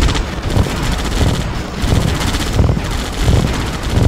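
Units open fire in Red Alert 2, a dense, loud volley of rapid gunfire and artillery bursts pounding continuously in a steady, chattering rhythm.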